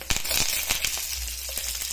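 Mustard seeds and tempering spices crackling in hot oil for mango tamarind rice, a close hiss with quick sharp pops and spatters spread across the moment, no voices.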